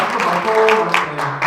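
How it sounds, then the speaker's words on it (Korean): An audience at an indoor youth political speak-out on electoral reform gives warm, steady applause, clapping close and fairly loud throughout the short stretch, with a few voices faintly mixed underneath. "뜨거운 박수 부탁드립니다."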